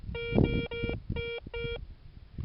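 Metal detector sounding over a stone in the field, a series of short electronic beeping tones in quick bursts over low handling rumble.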